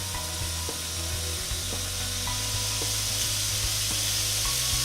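Pineapple slices sizzling on a George Foreman indoor/outdoor grill, a steady broadband hiss with faint pops and a low electrical hum beneath, constant and close with no speech.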